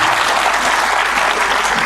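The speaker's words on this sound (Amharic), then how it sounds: "አጨብጭቡ።" Audience applause at a book launch held at the Hager Fikir Theatre in Addis Ababa: a dense, steady wash of clapping from a large crowd, loud and continuous for about two seconds with no voices over it.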